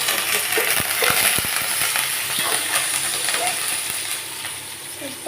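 Curry leaves hit hot oil with a close, loud sizzle and spatter, with a burst of sharp crackles and pops early on that settles into a steady frying hiss.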